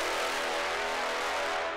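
Brass trailer cue played through a Head Crusher tape-drive effect with a 2 kHz EQ boost, a dense, loud, sustained wall of bright saturated tone with little low end.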